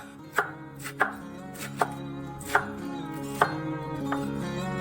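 A knife roughly chops 150 grams of cabbage on a board, five or six crisp, evenly spaced cuts standing out close and clear over a steady low background hum.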